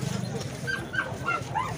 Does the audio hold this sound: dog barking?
yes